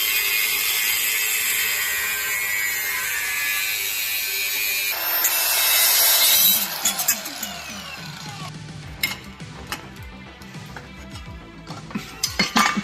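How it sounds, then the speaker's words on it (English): Welds are cut off the underside of a Jetta subframe with a power tool, a loud continuous grinding whine that stops partway through, followed by scattered metallic clanks and rattles. "we have to cut the welds off the bottom, then slide it backwards and re-weld it"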